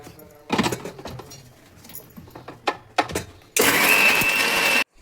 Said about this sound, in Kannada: ಮಸಾಲಾನ ಮಿಕ್ಸಿ ಜಾರ್ಗೆ ಹಾಕೊಂಡು ಸಣ್ಣಗೆ ರುಬ್ಕೋಬೇಕು